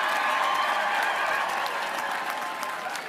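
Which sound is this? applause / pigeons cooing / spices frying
applause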